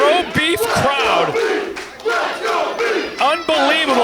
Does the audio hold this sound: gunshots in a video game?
no